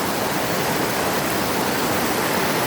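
River water runs steadily as a dense, even rush close by, with no voices or other sounds over it.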